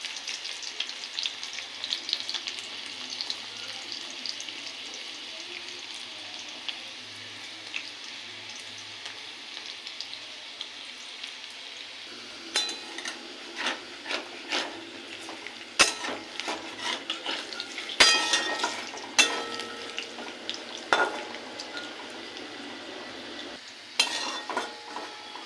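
Sticks made from jackfruit seeds fry in a little oil with a continuous soft sizzle that grows busier midway, punctuated by clicks and scrapes of utensils against the pan, close up and without speech.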